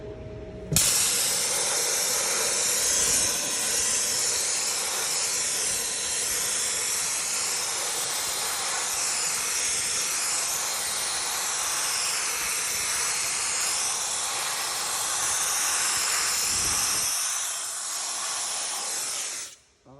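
Dry ice blasting on the wheel arch of a 2003 Mercedes-Benz SL55 AMG gives a loud, continuous blasting hiss for nearly twenty seconds, starting abruptly and cutting off near the end.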